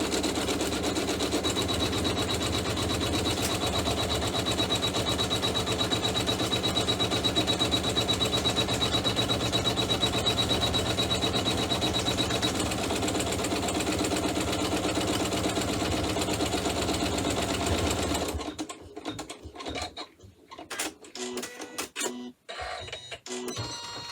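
An embroidery machine stitches a tack on a pouch's back lining, a close, fast and steady mechanical whir that runs for a long stretch, then stops and gives way to a few scattered handling clicks.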